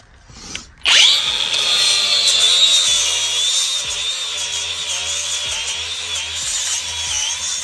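At a junkyard, a flap disc grinds against metal, spinning up after a short clunk into a loud, sustained high whine that holds steady with slight pitch wobble as pressure shifts.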